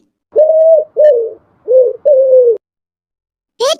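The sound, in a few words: pigeon cooing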